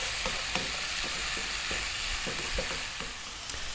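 A spoon stirs spicy coconut seafood soup with prawns and squid in a sizzling pot, a scraping that repeats in an even rhythm over a constant close bubbling hiss.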